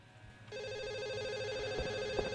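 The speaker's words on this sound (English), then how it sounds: "Alright, I'll answer my phone." A desk telephone in a video game rings with a steady warbling electronic trill that starts abruptly after a half-second of quiet and continues loud and unbroken, with a couple of faint thumps underneath.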